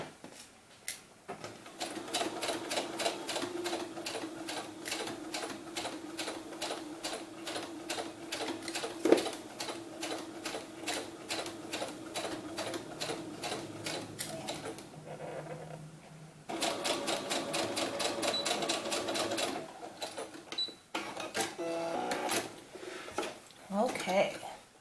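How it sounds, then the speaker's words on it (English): A sewing machine runs a quarter-inch seam across fabric for a doll romper, its rapid needle rhythm chattering in steady bursts with brief pauses, and a voice speaks now and then under the stitching. "So I'm just going to go ahead and sew right across there."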